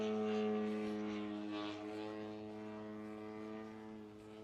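Propeller drone of a Flex Innovations 80-inch span Chipmunk radio-controlled model airplane flying at a distance, a steady harmonic buzz lasting throughout at moderate level, slowly fading.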